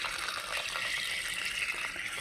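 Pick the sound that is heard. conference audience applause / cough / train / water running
water running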